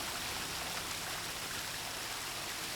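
A waterfall in the Paranaense forest roars with a constant, dense rushing hiss, steady and unbroken throughout with no voices.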